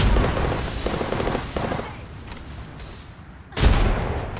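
Grenade blasts and bursts of gunfire in the video game Apex Legends, a dense run of loud shots and booms in the first two seconds, a quieter lull, then a sudden heavy explosion near the end.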